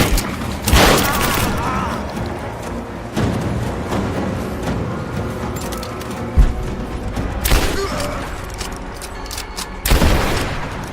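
Rise of the Tomb Raider firefight: sharp broadband gunshot bursts and heavy thuds break out at irregular moments over a dense, rumbling combat bed, loud and close, with a few strong impacts spaced apart across the stretch.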